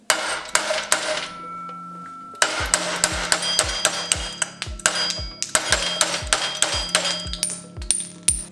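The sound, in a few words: hammering a part with a hammer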